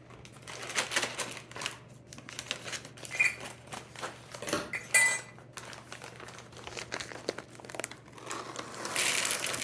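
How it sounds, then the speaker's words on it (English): Chocolate chips tip from a crinkling bag into cookie dough for homemade Nestle Toll House cookies, giving a steady run of close rustling, rattling and crinkling with sharper bursts near the end. "And now it's time to add the chocolate chips."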